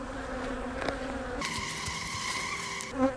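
Agitated honey bees buzz loudly and continuously around an opened hive, a dense close swarm drone with shifting pitch and no talking.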